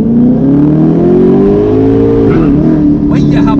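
Corvette V8 engine revs climbing steadily as the car drives, a loud, sustained rising drone with dense harmonics that dips briefly near the end while voices talk over it.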